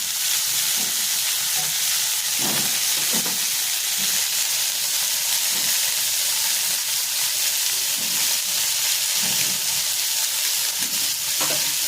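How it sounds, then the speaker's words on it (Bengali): Cauliflower and potato fry with a spice paste of cumin, coriander, ginger, tomato, Kashmiri chilli, salt and turmeric, a loud continuous sizzle broken by rhythmic stirring scrapes, with no voices. "কপি আলু ভাজার সঙ্গে সঙ্গে মশলাটাও ভাজা হয়ে যাবে।"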